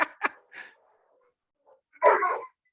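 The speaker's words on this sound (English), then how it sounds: "I hear that dog" A dog barks nearby in short, separate bursts: two quick barks, a softer one, then a longer, louder bark after a pause of near silence.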